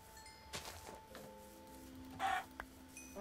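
Chickens from the Minecraft video game cluck in short game-sound bursts, clear and close. The bursts are spread over a few seconds against a quiet background with faint tones.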